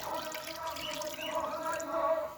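Water poured into a pan over chopped date palm jaggery gives a brief, steady splashing trickle at close range.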